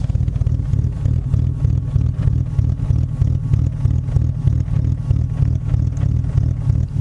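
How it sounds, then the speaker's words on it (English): The exhaust of an old BMW E34 with an uneven idle gives a close, steady, low pulsing rumble with a lumpy rhythm, heard alone without talk. "Let me get to the exhaust so you can hear how it works. It idles very awkward at the moment."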